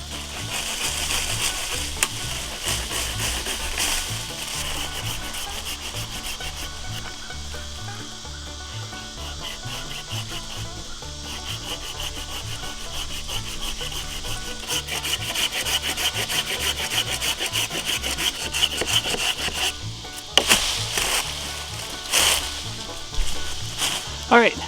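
Continuous back-and-forth hand sawing through a wooden handle, a rapid rasping rhythm that runs throughout with a brief pause near the end.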